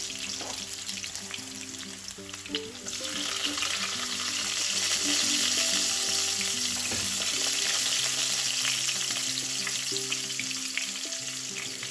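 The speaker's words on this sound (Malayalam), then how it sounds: "വെളുത്തുള്ളി ഒന്ന് പയ്യെ വാടിക്കഴിയുമ്പോൾ നമുക്ക് സവാള ചേർക്കാം" Onions and garlic frying together for paneer curry, a loud close sizzle that swells partway through, with stirring scrapes and a steady tonal hum underneath and no talking.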